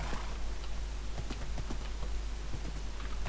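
Hooves clip-clop steadily as a horse walks in the Minecraft video game, a close, even series of light knocks over a constant low hum, with no talking.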